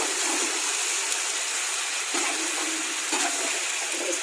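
Water poured from a blender jar into a pan of bitter gourd curry gives a continuous soft, hissing gush that stays steady and close throughout.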